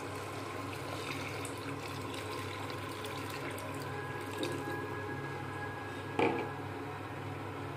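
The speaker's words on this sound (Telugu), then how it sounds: "కొంచెం వాటర్ పోసుకుందాం" Water is poured into a cooking pot of tamarind prawn stew with brinjal pieces, a soft, continuous liquid trickle in a quiet kitchen, ending with a brief clatter.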